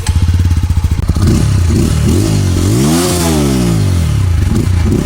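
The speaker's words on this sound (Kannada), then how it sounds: "ಎರಡರದ್ದು ಎಕ್ಸಾಸ್ಟ್ ನೋಟ್ ಕೇಳಿಸ್ತೀನಿ ನೋಡಿ ಒಂದ್ಸಲ." A Pulsar NS200 or Apache RTR 200 motorcycle sounds its exhaust close by, a throbbing idle that rises into a revving blip and settles back to a steady, loud thrum, with no one talking.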